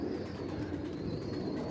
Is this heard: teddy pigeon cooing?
yes